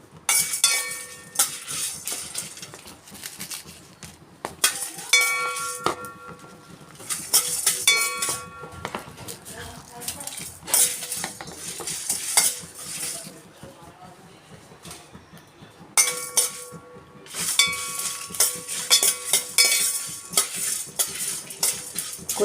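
Four dry red chillies roasting in a pan, stirred with a metal spoon that clinks and scrapes against the pan in repeated bursts over a soft sizzle, with quieter gaps between stirs.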